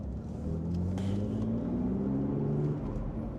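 A deep, steady engine rumble holds throughout, low and continuous with a faint rising tone, from a BMW Z4 (E86) sports car engine running nearby.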